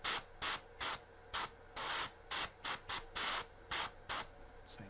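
Repeated short bursts of an airbrush spraying primer onto a miniature figure, about a dozen quick hissing puffs in an irregular rhythm, close and fairly soft.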